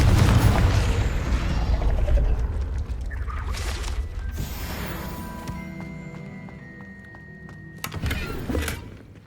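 A Confringo blasting spell explodes in Hogwarts Legacy with a heavy, loud boom and rumbling debris that decays, followed by ringing magical tones and a second burst near the end.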